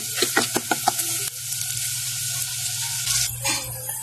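Garlic fries in a pan with a steady sizzle, while a utensil stirs and scrapes it in several quick strokes at first. A low hum sits underneath the whole time.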